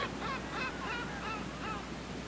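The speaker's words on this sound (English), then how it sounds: "listening to the sound of the gulls as you wait to disembark" Several faint gull-like calls repeat in a loose series over a constant hiss of background noise, somewhat distant.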